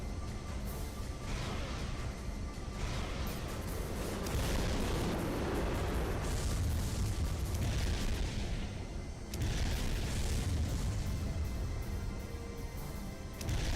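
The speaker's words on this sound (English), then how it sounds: "They're firing at me?" Enemy gunfire and explosions in the mech combat game Armored Core: Silent Line, a dense, continuous barrage of booms and blasts rumbling loudly throughout, with brief lulls around the middle and end.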